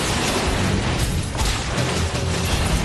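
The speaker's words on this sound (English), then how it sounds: "The explosion, the destruction, the smoke, the debris is all part of the story." An explosion in a Hulk video game cutscene, a dense, sustained roar of blast and rumbling debris that stays loud and near throughout with no let-up.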